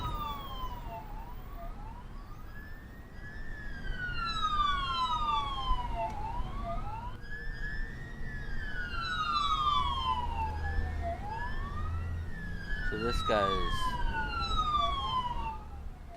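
A police car siren in a video game wails in repeated rising and falling sweeps, loud and steady throughout, with a brief burst of a different warble near the end and a voice speaking over it.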